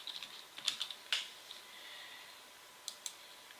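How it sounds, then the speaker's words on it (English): Short bursts of keyboard typing as a Google search is entered, quick clicky keystrokes in small clusters with pauses between, close and fairly quiet against a soft background hiss. "You can just go to a quick Google search and type in Rufus."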